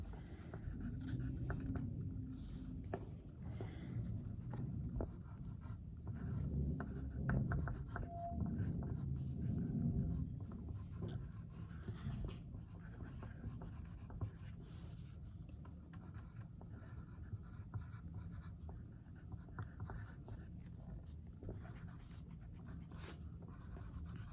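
A pencil writing on paper in a classroom, a long, continuous scratchy rubbing with short strokes and pauses, close and fairly quiet.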